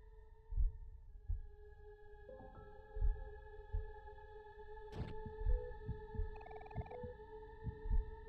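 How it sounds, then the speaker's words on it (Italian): Heartbeat effect from the video game Omori, a steady series of low thumps with a sustained tonal music drone and a few brighter chimes over it. "Anche il tuo battito inizia a stabilizzarsi."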